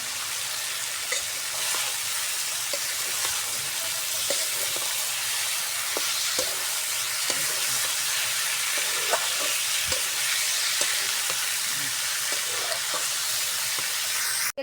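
Cauliflower, eggplant and potato curry sizzling steadily in hot oil as it is stirred, a dense continuous hiss with occasional soft scraping and clicking of the spoon, close and loud, no voices.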